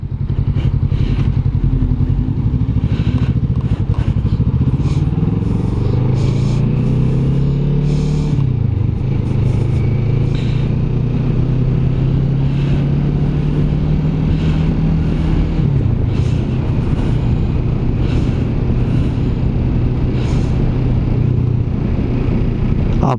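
A 2021 Kawasaki Vulcan S motorcycle engine drones loudly and steadily while riding, revs rising through gear shifts and then holding a cruising note, with wind buffeting the microphone throughout.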